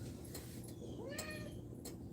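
Indoor house cat giving a single clear meow midway through, quiet and fairly close over a low steady background hum, with no speech.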